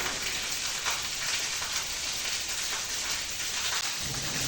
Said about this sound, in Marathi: आज खूप पाऊस चालू आहे आज सकाळपासूनच पाऊस चालू आहे